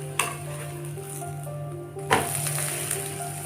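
Tapioca adai cooks on a hot pan over a low flame, giving a soft continuous sizzle, with one sharp scrape near the start and a louder one midway as the pancake is turned.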